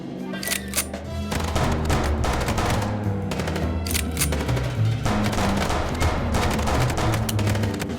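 Rapid machine gun fire and booming gunshots from the Chicken Police video game, loud and sustained throughout, with dense bursts and no talking.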